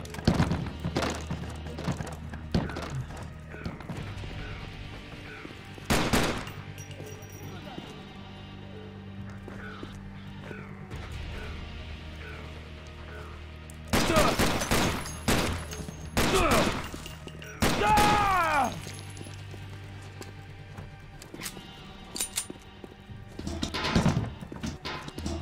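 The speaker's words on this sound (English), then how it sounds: "Plan is to use up as much pistol ammo as possible and then grab their submachine guns." Pistol shots ring out in the shooter game Terrorist Takedown 2, sharp reports that come singly and in short clusters over game background noise and music, with occasional louder bursts.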